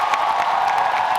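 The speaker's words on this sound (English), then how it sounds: "what we can do at last is like to give the massive like applause so it goes all the way to Antarctica" An audience at a film premiere cheers and applauds, a dense continuous wash of clapping and whoops at steady loudness with no clear pauses.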